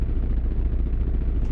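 A Subaru's engine in the racing game Gran Turismo 1 idles with a steady, rapid, low clattering putter, loud and close, with no voices over it.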